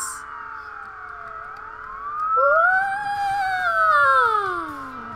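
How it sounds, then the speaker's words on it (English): Police car siren in the Roblox game Jailbreak, a steady electronic wail that rises and falls in long sweeps, swelling louder midway and holding up close with no talk over it. "we have to add the sirens"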